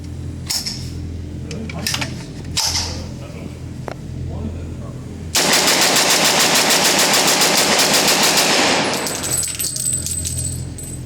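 A Heckler & Koch USC .45 carbine fires rapidly at an outdoor range. Several loose single shots and clicks come first, then a loud, fast, continuous string of rounds that lasts a few seconds before fading into ringing echo.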